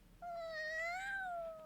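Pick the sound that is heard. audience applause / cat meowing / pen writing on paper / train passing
cat meowing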